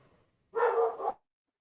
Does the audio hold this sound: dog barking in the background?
yes